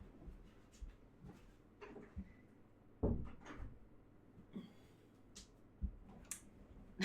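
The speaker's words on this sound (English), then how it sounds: "I'm just gonna quickly close the door" A door is pulled shut in a quiet room, giving a handful of soft knocks and clicks with one sharper thud in the middle, close and faint, with no talk.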